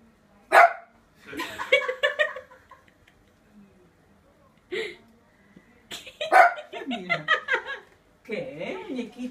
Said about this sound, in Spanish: Mira el perro.